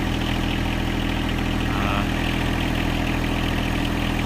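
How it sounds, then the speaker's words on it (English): A tiny little tractor's engine running steadily at idle, a continuous low throbbing rumble with a fast regular pulse, close and constant throughout, with no voices. "This is a tiny little tractor."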